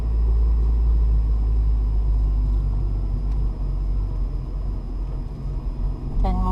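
A manual car in a parking lot pulling away with a little gas as the clutch comes up, a steady low engine rumble heard from inside the cabin, close and loud, with a voice talking over it.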